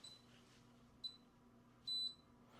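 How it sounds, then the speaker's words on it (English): A quiet room with a short electronic chirp, followed by a single longer, clear beep from the keypad of a Xegis palm vein biometric safe. "single beep means it worked."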